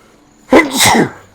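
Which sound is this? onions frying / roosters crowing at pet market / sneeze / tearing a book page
sneeze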